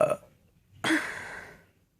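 A loud, drawn-out burp after chugging a can, one close belch lasting under a second that follows a short, sharp sound.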